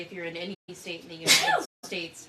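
A single sharp sneeze bursts out close by in the middle of someone talking, brief and loud against the speaking voice.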